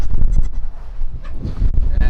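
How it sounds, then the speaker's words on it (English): Small young goats bleat loudly and close by at a livestock ranch, several short overlapping cries over rustling and low background noise. "Tiny little goats"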